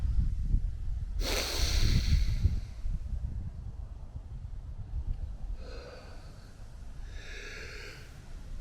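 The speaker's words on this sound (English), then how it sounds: "it makes me sneeze." A single sharp, breathy burst like a sneeze or snort, followed by quieter airy breaths and faint rustling in a calm room, at the Maheno shipwreck on K'gari (Fraser Island).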